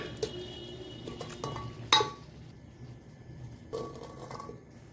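Pots and metal utensils clink and clatter while meat is shifted from a kadai into a pressure cooker, with a sharp metallic knock near the middle and quieter scraping clinks around it, close by and with no talking.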